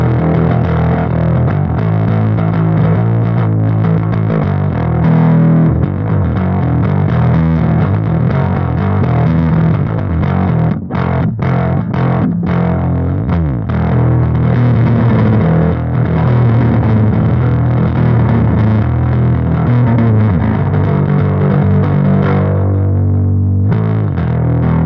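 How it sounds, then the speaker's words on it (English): Bass guitar played through an Orange Terror Bass head and OBC112 cabinet, with a thick, gritty, overdriven tone in continuous riffs, loud and up close, with a few sharp breaks before it rings out at the end. "some sound bites on the brand new orange Terabass head"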